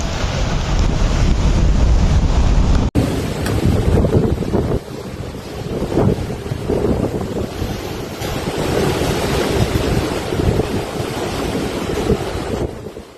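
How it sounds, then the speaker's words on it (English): Storm waves crash along the Sicilian coast near Catania and Messina as Storm Harry's strong wind buffets the microphone, producing a loud, continuous roar of surf and gusts throughout with no voices. "Towns including Catania, Messina, and Ledigiani were battered by wind-driven waves that surged into coastal streets."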